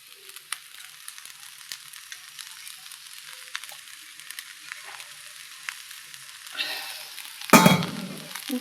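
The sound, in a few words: curry sizzling after whole pot is tipped into pan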